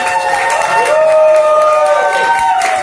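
A club crowd at the AlterEgo Club cheers and applauds loudly and without a break for about three seconds, with sustained whoop-like tones riding over the dense clapping.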